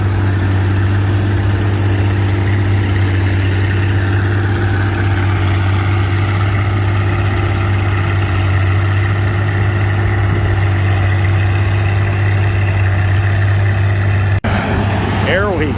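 A John Deere 55 combine fitted with a mounted picker runs steadily at a vintage farm show in Rantoul, Illinois, a loud continuous low engine drone with a brief knock near the end.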